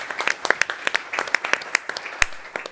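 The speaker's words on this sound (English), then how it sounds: "So big applause, and the floor is yours," Scattered audience clapping at a private equity industry conference, distinct individual claps in a brisk uneven rhythm, moderately close and fairly light.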